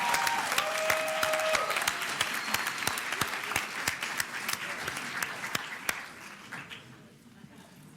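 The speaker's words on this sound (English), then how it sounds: "Let's give Universal Language another round of applause" Evening audience in Philadelphia applauds the performing group Universal Language, full crowd clapping with a few loud sharp individual claps, a brief tone at the start, then the applause thins and fades toward the end.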